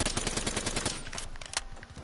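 Rapid automatic gunfire in Black Ops 3, a fast burst of repeated shots for about a second and a half followed by a few scattered pops, loud and close.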